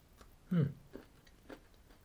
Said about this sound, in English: I've just nibbled the complete top off that one.